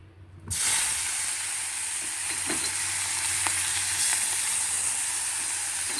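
Onion paste drops into hot oil for a rohu fish curry, setting off a sudden loud hissing sizzle that stays steady and close for several seconds, with faint stirring ticks and no talking.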